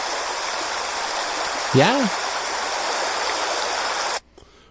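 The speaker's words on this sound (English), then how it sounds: "you can hear the water running" Steady broadband rush of water flowing without pause, like a stream or falls heard close, with a short voice cutting in briefly before the sound stops abruptly near the end.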